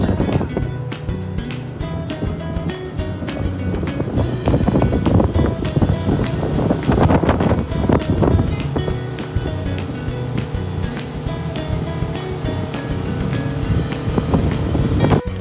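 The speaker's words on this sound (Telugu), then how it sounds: "మెట్టుపట్టి డ్యామ్లో స్పీడ్ బోట్ రైడ్ చేసాం" A speed boat races across the water of Mattupetty Dam in Munnar, engine droning steadily under constant wind buffeting and splashing spray, loud and continuous throughout.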